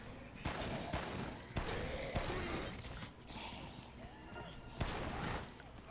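Gunshots go off in the video game Dead Rising, several sharp cracks spaced a second or so apart over busy game noise while a person talks.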